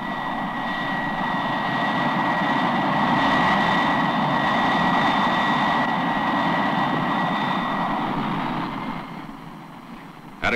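A U.S. Navy T2V-1 jet trainer with an Allison J33 engine taxiing on the ground gives a steady, droning jet roar with a thin high whine on top, fading slightly near the end.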